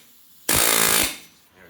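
An air chisel hammers at the hub assembly of a 1997-2005 Chevrolet Blazer, a single loud rapid burst of pneumatic rattling lasting about half a second, then cutting off abruptly into quiet.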